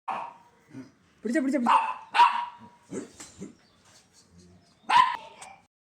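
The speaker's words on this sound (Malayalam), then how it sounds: "അങ്ങനെ ഡയാന മോളിങ്ങനെ കുരയ്ക്കുകയാണ്" A pet dog named Diana barks in short, repeated bursts at close range, with a few yips mixed in, while a person talks over and between the barks.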